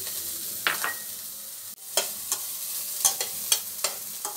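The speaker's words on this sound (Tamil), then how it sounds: "அதையும் போட்டு நல்லா அந்த எண்ணெயில் வதக்கிக்கோங்க" Beans sautéing in oil in a pan for veg fried rice, a soft continuous sizzle punctuated by a series of sharp spatula scrapes and taps, fairly quiet, no talking.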